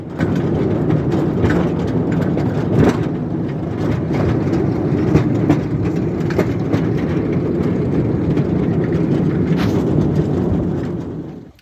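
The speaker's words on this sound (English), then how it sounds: "So here's that train then. It's got a diesel at each end" A train hauled by a diesel locomotive at each end runs along a branch line toward a storage depot, a loud steady engine rumble filling the whole stretch without letup, no voices over it.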